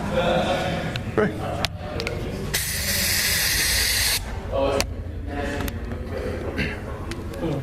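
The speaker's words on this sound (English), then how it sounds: "OC spray has been deployed into 3102." A strong burst of OC pepper spray hisses for a couple of seconds into a cell, with shouting and voices before and after.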